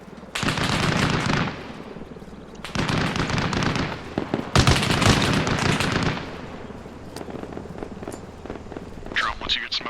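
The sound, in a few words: heavy machine gun fire in video game Arma Reforger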